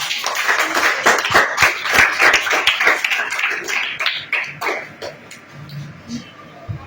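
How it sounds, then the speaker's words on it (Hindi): Classroom applause for a student, a burst of clapping from many hands with some chatter mixed in, loud at first and thinning out after about four seconds. "जागृति के लिए सब लोग ताली बजा रहे हैं"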